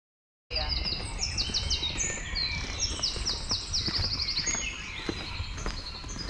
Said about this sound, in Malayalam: കിളികളുടെ ശബ്ദമൊക്കെ കേൾക്കാം അല്ലേ?